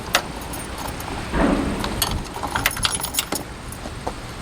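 Keys jangle and click in the locking gas cap of a Ford Bronco II with a 2.8 V6, a close metallic rattle with a brief scraping twist near the middle and scattered clicks afterward.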